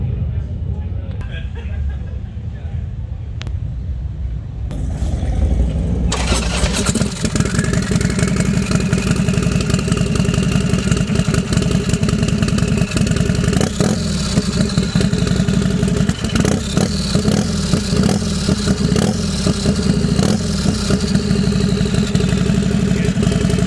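A turbocharged Harley-Davidson FXR motorcycle starts after a quiet moment, then settles into a loud, rough idle with throttle blips and revs, close by, with people talking over the engine.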